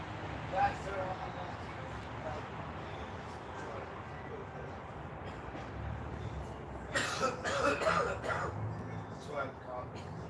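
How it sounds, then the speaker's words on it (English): A man coughs and clears his throat a few times in short bursts, with a cluster of harsher coughs, amid low background rumble and some talking. "That's why I'm coughing."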